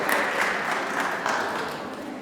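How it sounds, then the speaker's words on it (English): An audience at a Lunar New Year celebration in Brooklyn Borough Hall claps in a brief, even burst of applause that stays steady and fairly loud from start to finish. "Please give him a big, big round of applause for all the work he does."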